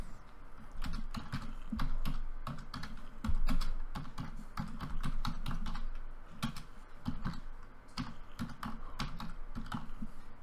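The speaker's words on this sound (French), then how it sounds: "On pèse sur Enter sur le clavier." Steady clatter of keystrokes on a computer keyboard, close and fairly loud, running continuously with uneven rhythm and a few heavier key presses, while someone searches a map in genealogy software.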